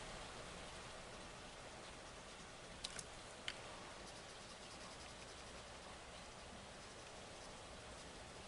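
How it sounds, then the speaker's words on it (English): Heavy rain pours down in a steady, even hiss that stays faint and distant throughout, with a couple of tiny clicks and no voices. "It's pouring down with rain."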